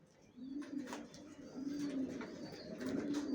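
Adult Afsan grizzle pigeons coo in repeated low, soft rolling calls at a loft, with a few faint higher chirps and light background rustle.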